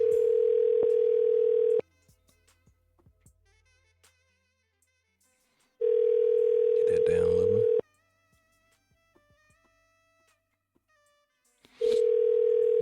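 Telephone ringback tone heard while placing a call, a steady electronic tone repeating in long bursts of about two seconds separated by roughly four seconds of quiet, loud and clear, with someone briefly talking between rings.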